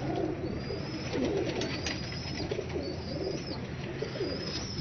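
Pigeons in a Lahore loft coo in soft, repeated throaty phrases over a dense, constant background murmur, with a few faint higher chirps mixed in.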